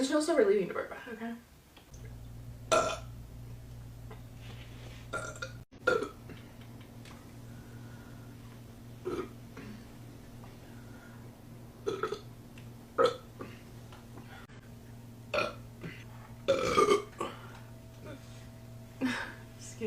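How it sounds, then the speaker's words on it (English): Repeated burps from a woman, several short croaking eructations spread across the stretch, each standing out clearly over a steady low background hum. "It just feels so relieving to burp, okay?"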